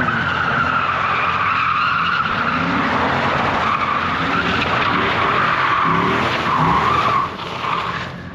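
A 6-speed Infiniti G35 sedan doing donuts, its tires squealing and skidding continuously in a loud, wavering screech with engine roar underneath, close by, easing off near the end.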